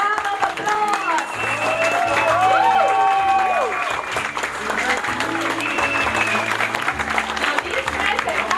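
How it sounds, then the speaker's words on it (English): Sustained loud applause from a big audience at an anniversary celebration, steady dense clapping mixed with music and some crowd noise. "A thunderous round of applause."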